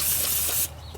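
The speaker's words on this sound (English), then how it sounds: "take some brake clean and clean off that coating" Brake cleaner sprayed onto a new rear brake rotor from a 2003-2007 Jeep Liberty, a loud steady close-up hiss lasting about two-thirds of a second before cutting off, leaving a quieter room tone.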